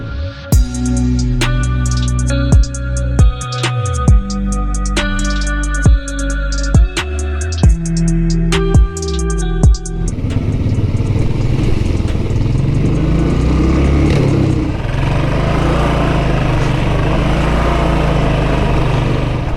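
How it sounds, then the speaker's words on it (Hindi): Motorbike on a rough mountain road from Nubra Valley to Pangong Lake: about ten seconds of loud, close engine revving with repeated rises and drops, then a broad roar of riding and wind noise at full loudness. "हम अब भगा रहे हैं बाइक को और जल्दी जल्दी पहुंचेंगे पैंगोंग"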